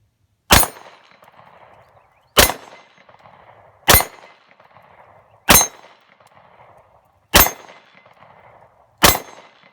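Six sharp pistol shots from a WWII-era handgun fire at a steady pace about every one and a half seconds, each loud and close with a brief ringing tail, and no talking between them.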